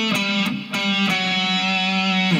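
Slow electric guitar riff, picked with a light distorted tone: sustained harmonic-rich notes with a few sharp pick attacks, close and alone with no talking.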